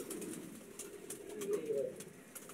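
Pigeons coo softly in low, throaty repeated murmurs, fairly faint against a quiet background hiss.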